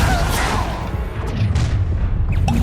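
Confringo blasting spell in Hogwarts Legacy detonating as a loud, close booming explosion with rumbling low-end debris and scattered combat sounds, no talk.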